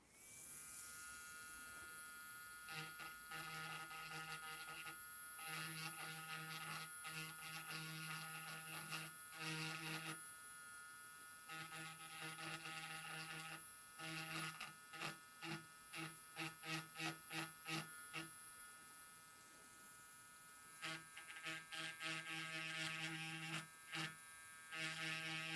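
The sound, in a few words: grinding off sections of circuit board traces on an Xbox Series S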